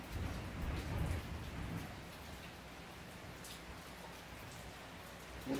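Steady rain falling outside during a thunderstorm, a dense even hiss of drops with a slightly heavier low rumble early on, continuous and moderately close.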